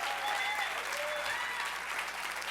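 An audience at a company employee Christmas show applauds the band and cast, a thick, sustained roar of clapping with faint voices mixed into the crowd.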